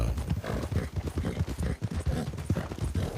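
A Shire draft horse gallops at speed in a video game, its hooves landing in a fast, steady clip-clop rhythm close up and loud, with no talk over it.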